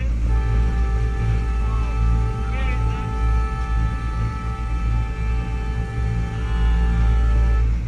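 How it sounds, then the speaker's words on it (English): A duck tour amphibious boat's horn blares in one long, steady, droning tone lasting several seconds over a low engine rumble. "I can sound the horn one more time"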